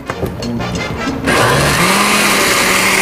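A kitchen blender grinds tomato salsa. Several short stuttering pulses give way to a loud, steady high-pitched whirr of the running motor.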